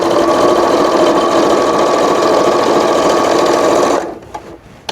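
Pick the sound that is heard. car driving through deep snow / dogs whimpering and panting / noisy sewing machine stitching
noisy sewing machine stitching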